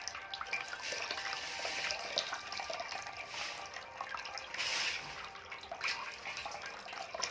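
Warm water poured over a kitten's head during its first shampoo wash, a steady close splashing and trickling that swells briefly near the middle, with no voices.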